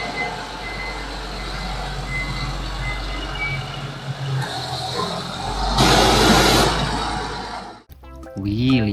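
Reversing beeps from a toy forklift, faint and repeating under a noisy background with a burst of rushing water, then a person speaks briefly at the end.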